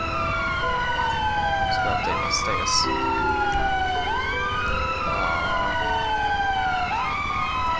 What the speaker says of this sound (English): Just sitting there with your sirens on